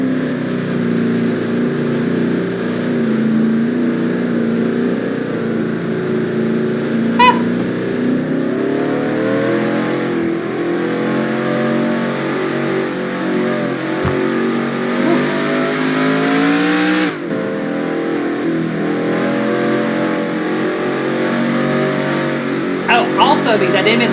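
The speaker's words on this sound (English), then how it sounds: "I'll go get the cool down lap here as Caleb Campbell is your race winner" Race car engines at Trenton in the NASCAR Racing 2003 video game drone steadily for the whole stretch, a loud close roar with gentle pitch swells and a few shifts, under a talking voice.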